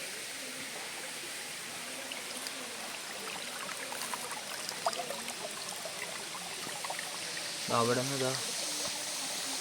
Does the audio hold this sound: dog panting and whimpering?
no